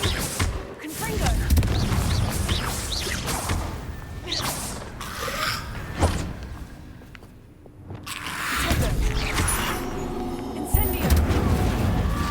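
Confringo fire spell explosions in the video game Hogwarts Legacy, a barrage of loud booms, whooshes and crackling blasts rolling on and off with a brief lull in the middle.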